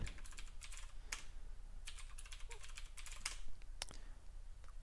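Keys clatter on a computer keyboard as a root password is entered during server setup, a quiet run of quick irregular clicks with short pauses between bursts.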